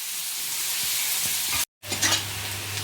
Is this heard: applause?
no